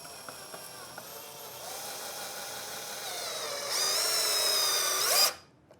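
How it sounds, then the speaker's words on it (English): A power drill drives screws into a wooden trestle, a steady whining motor hum that rises in pitch and loudness toward the end before cutting off abruptly, close and alone. "once I've got these positioned, I can drive the screws"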